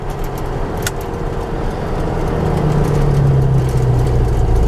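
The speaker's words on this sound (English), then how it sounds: "Runs nice and smooth, it's quiet, it's got dual exhaust, it's got Magnaflows on it." A 1965 Ford F100 pickup engine with Magnaflow dual exhaust runs smooth and fairly quiet nearby, a steady low rumble that swells slightly toward the end as the revs rise a little.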